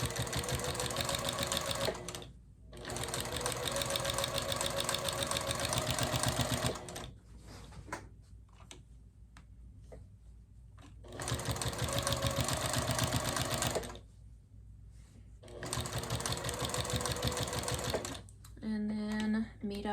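A sewing machine stitches quilt binding in several sustained runs of fast, even clatter, separated by short pauses with quieter handling sounds and a brief burst of noise near the end.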